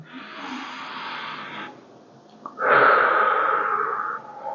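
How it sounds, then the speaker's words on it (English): A slow, deep breath drawn in close to the microphone, an airy hiss lasting over a second, then after a short pause a longer and louder exhale. "So take a deep breath in."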